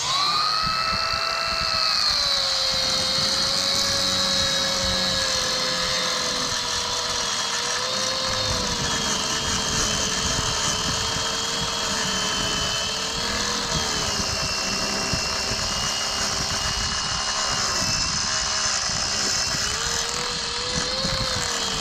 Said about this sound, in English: Now we're using a battery op grinder